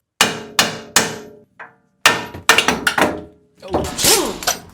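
A metal mallet hammers a ball joint out of the steering knuckle of a Ram truck, loud sharp blows coming in quick uneven bursts of two to four strikes with short pauses between.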